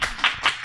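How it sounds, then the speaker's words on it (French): A few quick claps at a manga convention conference, three short bursts in rapid succession, fairly close and moderately loud. "On applaudit"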